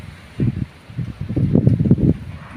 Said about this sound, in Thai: มีลมยังแข็งเลยครับนะครับ